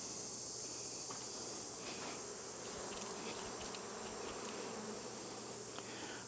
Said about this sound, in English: Knocking those bees off